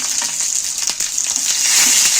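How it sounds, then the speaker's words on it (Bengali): Banana-leaf-wrapped brinjal parcels hiss and sputter briefly as they go into hot oil in a pan, a close, bright sizzle with a few crackles and no talk. "পাতুলি বানাতে যে বেগুনের আমি প্যাকিং করেছি কলা পাতায় মুড়ে সেইটা আমি এবার এই প্যানের মধ্যে তুলে দিচ্ছি তেলটা গরম হয়ে গেছে"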